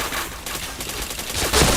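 Rapid bursts of video game gunfire crackle in a dense, loud volley, close up with no pauses.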